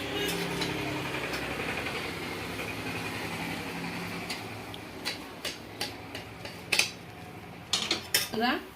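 Prawn curry is served over hot rice with a low steady background, then sharp clinks and taps of a metal spoon against dishes come in quick clusters toward the end.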